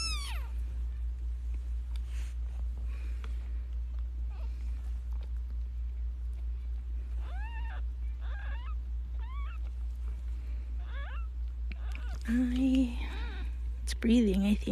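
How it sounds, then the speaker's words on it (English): A newborn premature kitten meows in a series of thin, high, faint mews spaced across the stretch, with a louder cluster near the end, over a low steady hum, with soft voices nearby. "I think it meowed."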